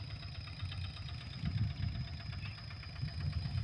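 A rubber-wheeled tractor's engine runs steadily at low revs in a dry field, a deep rumbling, knocking drone with pulsing low-end throbs, heard alone and fairly close.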